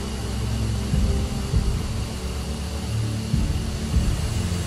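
F-15 Strike Eagle jet engines in DCS World, a loud steady low roar and rumble held close and continuous, with no talking.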